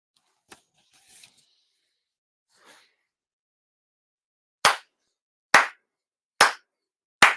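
Four sharp, evenly spaced hand claps ring out crisply in a quiet room as part of a Shinto New Year prayer ritual, preceded by a few faint rustles and small sounds.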